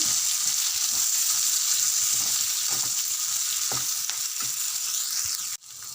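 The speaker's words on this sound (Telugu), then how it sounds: "రెండు పచ్చిమిరపకాయలు బాగా మధ్య వేసి కలపాలండి" Green chillies fry loudly in hot oil for a bitter gourd curry, with a dense continuous sizzle and intermittent spoon scrapes against the pan before the hiss abruptly drops near the end.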